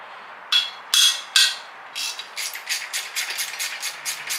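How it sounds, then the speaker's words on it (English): Ratchet wrench working a 15 mm engine mount bolt loose on a Mercedes M119 V8, starting with three sharp cracking strains, then a rapid run of close, crisp clicking pawl strokes. "Ratchet wrench is a lifesaver."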